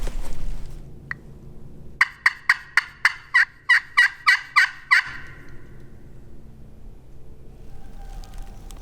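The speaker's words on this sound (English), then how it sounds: "We got a turkey over there." A wild turkey gobbles in a rapid burst of about ten sharp, rattling pulses, fairly close and loud against quiet outdoor surroundings, with a brief faint call just before.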